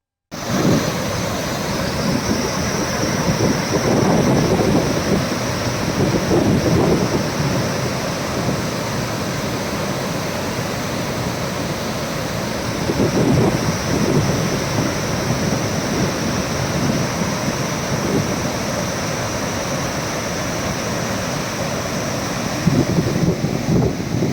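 Water released through the opened gates of Manjara dam in Latur rushes along the river in a loud, continuous roar, with gusty wind buffeting the microphone and no voices.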